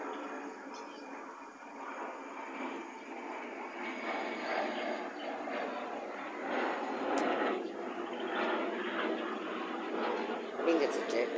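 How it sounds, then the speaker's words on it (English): A jet aircraft passes overhead as a broad, distant roar that swells gradually and holds steady, faint beneath occasional nearby talking. "I think it's a jet going over."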